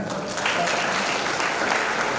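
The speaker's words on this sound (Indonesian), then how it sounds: "Tepuk tangan." Steady, dense applause from an audience at a new cadet inauguration ceremony at a maritime polytechnic, filling the hall evenly from start to finish with a faint murmur of voices underneath.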